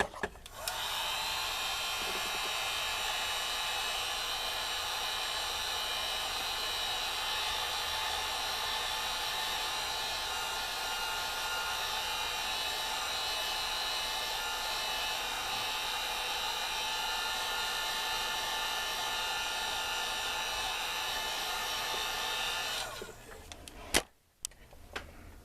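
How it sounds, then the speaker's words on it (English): A heat gun blows steadily and loudly for over twenty seconds while being aimed at a model flying wing diorama, then cuts off, leaving a few brief clicks and handling noises. "I think I'll hit that with my heat gun."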